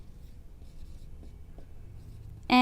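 A pen scratches across paper, working out equations for a 10th class maths exercise, with soft, faint, close strokes and small taps and no voice, ending in a sudden louder burst.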